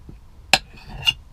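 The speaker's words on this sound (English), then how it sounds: "So what you're aiming to do here is just chop these up into nice little slices." Knife chopping a partly frozen ingredient into slices on a boat's galley board: three sharp, separate knocks spaced irregularly, with faint sizzling underneath and no talking.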